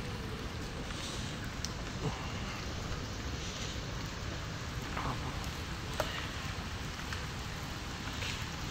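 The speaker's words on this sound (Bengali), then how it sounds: "আমাদের এখানে সারা দিন বৃষ্টি হয়েছে, পুরা দিন বারিশ, এখনো বৃষ্টি হচ্ছে" Steady rain falls after a full day of downpour, a soft continuous patter with a few sharper drops, heard alone with no voices.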